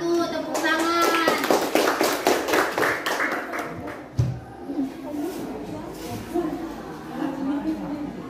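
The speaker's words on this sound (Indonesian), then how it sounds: "Tepuk tangan." A classroom group breaks into rhythmic clapping for group 1, a burst of quick claps lasting a few seconds before fading, with children's voices and an adult talking over and after it.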